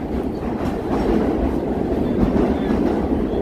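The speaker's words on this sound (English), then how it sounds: "There goes the train." A subway train rolls past on the street in Midtown Manhattan, New York City, a loud steady rumble and rattle of wheels and cars that holds throughout without any talking.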